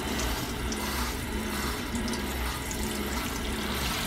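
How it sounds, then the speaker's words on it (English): Water runs steadily from a faucet in a 2016 Thor Outlaw 29H RV, a constant hissing stream with a low water pump hum underneath, no voices. "That's our water pump in motion."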